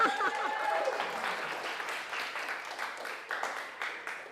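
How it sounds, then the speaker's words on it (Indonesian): Students in a classroom clap their hands together, a dense wash of applause that starts strongest and gradually thins out, heard from a short distance. "Tepuk tangan."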